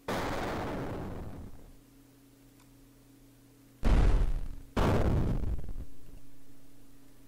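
Explosion sound effects for an indie video game in development, three loud booming bursts: one at the start fading out slowly, then two sharp blasts in quick succession, each trailing off, over a low steady hum.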